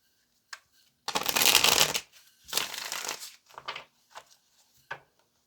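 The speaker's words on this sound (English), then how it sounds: "Let's get one more shuffle." Tarot cards being shuffled by hand in two long riffling bursts, followed by a few short, soft card taps and slides, close and clear with no talking.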